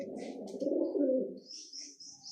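Pigeons coo close by in a low, rolling burst that swells and fades, with a few faint higher chirps and tweets around it and no talk.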